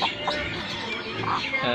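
Chickens kept in a large enclosed aviary-style cage on a home farm cluck in scattered short calls over a busy background, with a few louder squawks close by.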